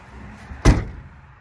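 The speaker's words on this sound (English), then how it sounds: "I'm going to shut the door again" A door is shut once indoors, a single solid thud that stands out clearly against a quiet room.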